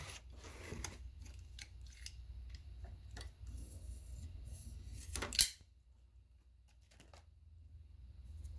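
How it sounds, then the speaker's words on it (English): FEP film for an Elegoo Mars resin printer being cut with a craft knife: a run of faint, crisp ticking snips and scrapes close by, one sharper slice near the end, then quiet. "Always cut away from your body."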